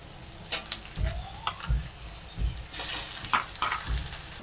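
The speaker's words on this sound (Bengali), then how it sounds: "পেঁয়াজটা লাল করে একটু ভেজে নিই" Onions sizzle and fry in hot oil while a utensil scrapes and stirs the pan, with the hiss swelling louder toward the end.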